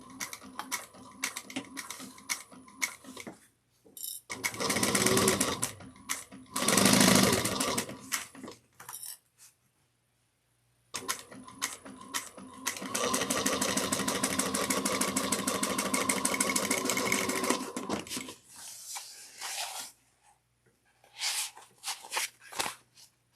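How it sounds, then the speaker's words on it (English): A sewing machine stitches a bucket bag seam at a 3/8-inch allowance, running in several steady bursts separated by pauses, with fabric handling and clicks in between. "we're going to sew using 3/8 of an inch"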